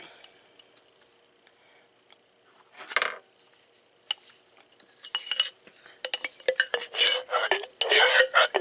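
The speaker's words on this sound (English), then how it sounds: "now I'm going to put the rest of the pizza sauce on top of this and spread it out" Pizza sauce being spread with a utensil over a biscuit dough pizza casserole in a baking dish; quiet at first, then rising bursts of scraping and clinking from about three seconds on, growing busier toward the end.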